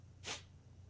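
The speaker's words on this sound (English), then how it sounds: "I like my sneezes because it also cracks my back." A single sharp human sneeze bursts out near the microphone, a brief breathy explosion that fades quickly against a low background hum.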